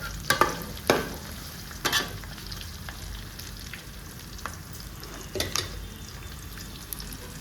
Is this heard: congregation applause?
no